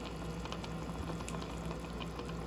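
Chicken adobo in vinegar and soy sauce simmering in a pot, a faint, steady bubbling hiss with small scattered pops throughout, close and uninterrupted.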